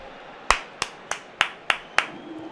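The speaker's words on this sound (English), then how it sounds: "Do we have clap applause?" Six sharp, evenly spaced claps ring out one at a time, close and crisp with a short room echo, over quiet background during a live football broadcast.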